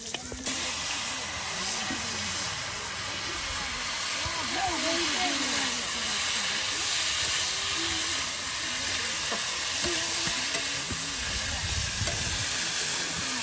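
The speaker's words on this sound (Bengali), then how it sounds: "প্রায় সব কয়টি মাছের টুকরা কিন্তু এই যে ভেজে ভেজে আপনার নেওয়া হচ্ছে" Fish pieces frying in oil at an outdoor riverside cooking spot, giving a steady, loud sizzling hiss that runs the whole time beneath a person talking.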